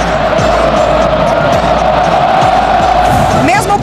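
Atlético-MG supporters fill a packed stadium with loud, continuous crowd singing and roaring, a dense wall of voices holding steady throughout with a few whoops near the end.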